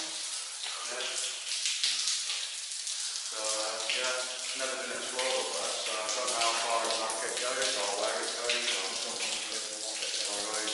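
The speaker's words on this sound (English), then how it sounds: "Water's coming through, isn't it," Water trickling and splashing through an old underground mine 700 feet down in Lancashire, a steady close rush with people talking over it partway through.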